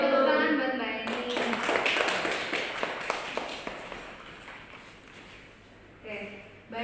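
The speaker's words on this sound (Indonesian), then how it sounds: "Beri tepuk tangan buat kita semua." Students in an Indonesian classroom clap their hands in a short scattered round of quick taps that thins out and fades, with a voice speaking just before and again at the end.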